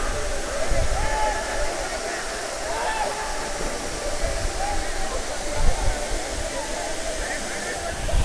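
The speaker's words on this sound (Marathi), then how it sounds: "नाणेमाची धबधबा." The Nanemachi waterfall in Maharashtra roars as a continuous, dense rush of falling water, loud and close, with faint voices mixed in.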